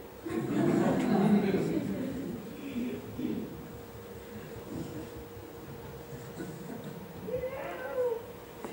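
A person imitates a kitten's meow during a French stage play, with voiced mewing early on, a brief repeat near the middle and another thin meow near the end, over room noise and other voices.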